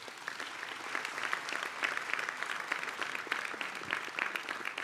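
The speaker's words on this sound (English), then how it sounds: "I'd like to ask that we give them a loud round of applause." A conference audience gives a long round of applause, dense sustained clapping from many hands filling the room steadily, with no speech over it.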